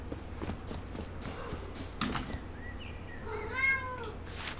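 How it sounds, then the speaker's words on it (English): A house cat meows softly a few times near the end, faint and close, over quiet room noise with light tapping and shuffling beforehand. "And that is my cat again."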